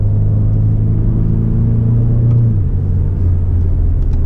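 A BMW F30 328i four-cylinder drones loud and close from the cabin on a mountain road, a steady low rumble with a rising tone that drops away suddenly near the end as the engine eases off, no voices.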